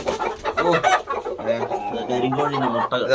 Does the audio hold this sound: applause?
no